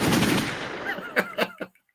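A short burst of gunshot sound effects, a sustained noisy blast followed by several sharp separate cracks that then cut to silence.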